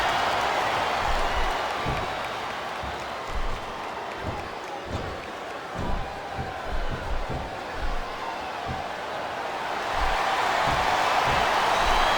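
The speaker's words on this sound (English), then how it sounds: "I think this crowd's giving these superstars a piece of their minds" Wrestling arena crowd roars and shouts at the wrestlers in a big pay-per-view event, a dense continuous wall of voices with thumps and bursts of cheering, swelling louder near the end.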